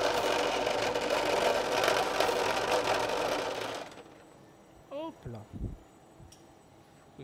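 A vibrating machine hums and rattles steadily through its final vibration cycle in a showroom, loud and continuous, then cuts out abruptly and leaves only a few faint knocks and clicks.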